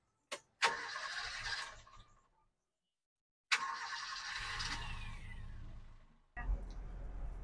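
A 1992 Toyota Kijang Super with a carbureted engine starts twice, each time a sharp crank catching into a close, steady idle, the first run dying after about two seconds, then a third start near the end.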